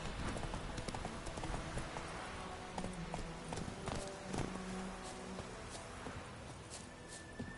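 Hooves of the video game horse Roach clip-clop steadily on the road in a PS4 game, a rhythmic, even beat over a soft ambient background with no talking.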